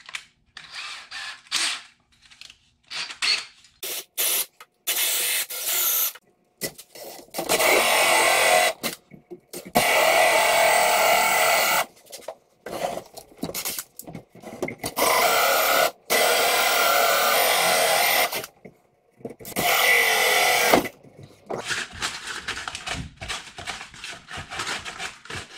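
Power drill boring the bottom hole for a flange on a sailboat's adjustable telescoping mast crutch, loud whining runs in several bursts with short pauses and stops between them.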